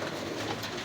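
Racing pigeons cooing softly at a Sison, Pangasinan club fun race, a brief low murmur of birds close by over a steady background hum.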